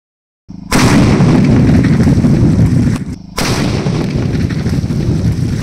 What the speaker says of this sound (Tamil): அடுத்ததா 1/2 கிலோவில் பேப்பர் பாம்.